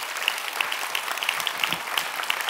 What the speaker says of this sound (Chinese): 掌声鼓励自己，掌声鼓励爱多美马来西亚。